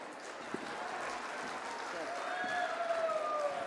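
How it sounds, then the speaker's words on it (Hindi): A crowd claps at the live Sparsh Himalaya Mahotsav 2025 cultural evening in Uttarakhand, with fairly soft, distant-sounding applause forming a continuous wash and faint tonal whistles rising near the end. "जोरदार तालियां"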